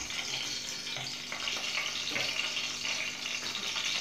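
Cooking oil heats in a pan on the stove with a steady, soft sizzle and faint bubbling throughout, close by and uninterrupted, with no voices over it.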